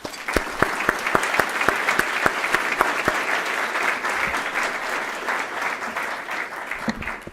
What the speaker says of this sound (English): I'd like to at least give her a round of applause.